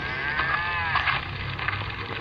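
Cows mooing in a game, a continuous, loud, drawn-out lowing that fills the whole short stretch with little variation.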